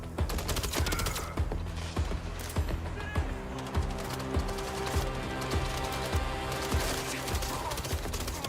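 Dense video game gunfire, rapid repeated shots and bursts crackling nonstop over a busy backdrop of other in-game sounds, loud and close throughout.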